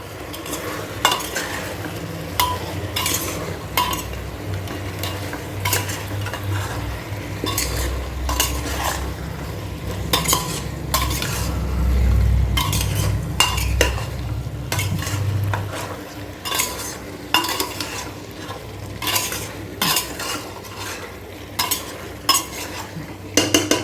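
Bengali chicken curry being stirred in a single pot after salt and Kashmiri chili powder go in, with repeated sharp metal spoon scrapes and clinks against the pan over a continuous sizzle, close up and without speech.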